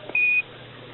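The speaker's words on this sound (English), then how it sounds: "Give us a reading on the 1202 program alarm." Apollo 11 lunar module 1202 program alarm, a single steady electronic beep tone lasting about a quarter second over a faint radio hiss, with no talk.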